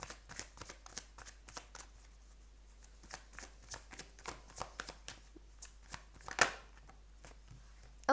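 Tarot cards being shuffled in a steady run of crisp riffling slaps, about fifteen close, distinct bursts with one sharper snap near the end, no voices.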